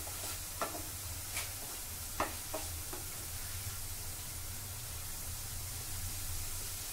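Oil tempering (oggarane) sizzling steadily in a pan on a home stove, a faint continuous hiss with a few soft clicks and stirring taps near the start, no voices.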